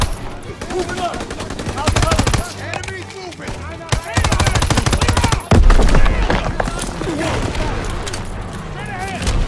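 Machine guns hammer in Call of Duty WW2 during a stronghold battle, with loud sustained rapid bursts and heavy impacts under shouted voices from players and in-game soldiers.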